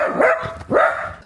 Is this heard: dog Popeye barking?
yes